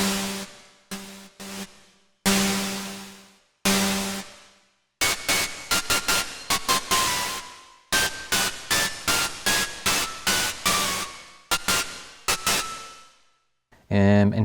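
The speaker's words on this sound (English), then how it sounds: "There is white noise on this thing." Yamaha Rev 7 effects unit sending bursts of white noise through its reverb, a series of sharp bursts that start abruptly and die away quickly, some short and rapid, others longer, with silent gaps between them.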